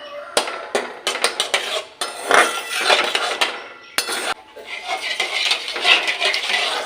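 Powdered milk being stirred in to dissolve it while making a carrot sweet, as a spoon clinks and scrapes repeatedly against a metal pot or bowl in quick, uneven strokes, close and clear.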